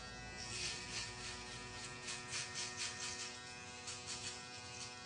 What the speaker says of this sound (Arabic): هسه نصفر هذا الجو باي الماكينة الناعمة